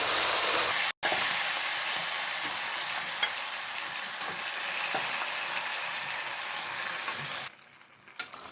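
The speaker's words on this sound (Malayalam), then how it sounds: "ഇനി നമുക്കിതിലേക്ക് ബീഫ് ചേർത്ത് കൊടുക്കാം. വേവിച്ച് വെച്ചിട്ടുള്ള ബീഫ് ഇതിലേക്ക് ചേർക്കുന്നു." Cooked beef tipped into a pan of frying onions, garlic and ginger: a loud, steady sizzle fills the clip, cut by a brief silence near the start, then dropping quieter near the end with a few stirring knocks.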